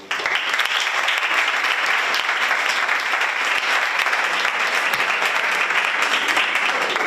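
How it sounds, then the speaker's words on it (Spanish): An audience at a film director's masterclass applauds, a dense, even roar of clapping from many hands held at full strength throughout, with no talk over it. "Le damos un aplauso."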